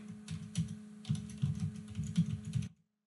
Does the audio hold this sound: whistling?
no